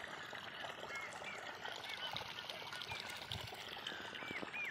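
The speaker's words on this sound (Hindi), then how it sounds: "यहाँ पानी बह रहा है" Water flowing through an irrigation channel in a farm field, a steady broadband trickling rush that continues throughout, with faint bird calls above it and no talk.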